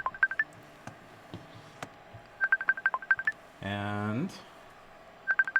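DTMF keypad tones from a phone redialing a call: short rhythmic bursts of beeps in several quick clusters, with a longer buzzing tone in the middle and a brief spoken word.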